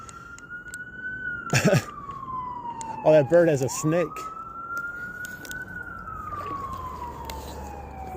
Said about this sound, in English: There's always sirens down here.